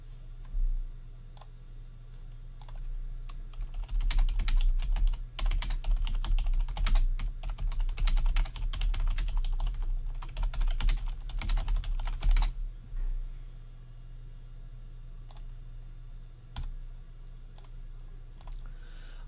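Computer keyboard and mouse being used at a desk before a live severe weather broadcast, with rapid close typing bursts for several seconds, then sparse single clicks, against a steady low room hum and no talking.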